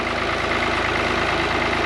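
A tractor engine runs steadily while raking hay, a close, continuous low mechanical drone at an even idle-like pace with no talking over it.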